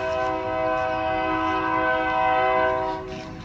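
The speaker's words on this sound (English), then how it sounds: "You can hear the train." A passing train in Chicago sounds its horn, a loud sustained multi-tone blast over the rumble of rail cars, holding steady before easing slightly near the end.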